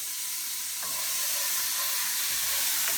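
Olives and capers sizzle in a hot pan with garlic for a Neapolitan puttanesca, a steady bright frying hiss with faint occasional stirring scrapes.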